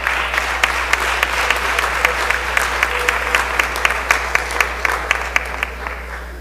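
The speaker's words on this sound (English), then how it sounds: "Let's give them a round of applause." Members on the floor of the Mississippi House of Representatives give a round of applause, moderately loud scattered clapping with distinct individual claps over a low steady hum, tapering at the end.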